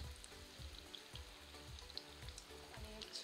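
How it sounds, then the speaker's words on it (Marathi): Batata vada deep-frying in hot oil, a steady close sizzle with soft bubbling pulses recurring about every half second and no voices. "आणि छान लाल सर्व होईपर्यंत तळून घेऊ"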